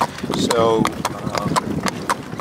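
A harness horse being driven on lines clip-clops with steady, fairly close hoofbeats while someone talks over the rhythm.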